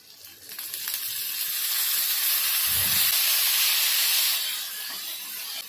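Tomatoes dropped into a pan of softened fried onions for a dried fish modak chutney, setting off a loud, close burst of steamy sizzling hiss that swells, holds for a few seconds and then eases off.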